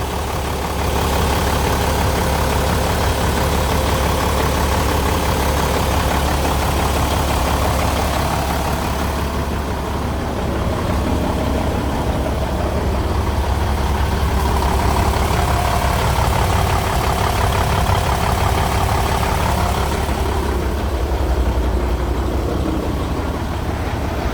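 An Isuzu Gigamax 12-wheeler truck's 6WF1 inline diesel engine idles with a steady, loud, low rumble that holds for the whole stretch, nearby and without talk.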